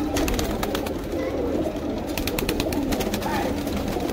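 A lot of Sharangpuri pigeons kept at a home coo together in a dense, steady low burble, with scattered wing flutters and a voice talking over them.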